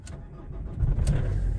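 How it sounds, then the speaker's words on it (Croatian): A car engine cranks and catches at about -2°C after the glow plugs have warmed, a low rumble that swells and settles into a steady idle, heard close up with no talking. "startam auto"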